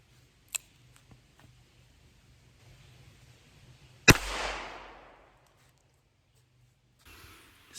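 A single sharp .22 Long Rifle shot into a cantaloupe cracks out loud and close, followed by a brief splattering decay, with faint ticks before and a soft rustle near the end.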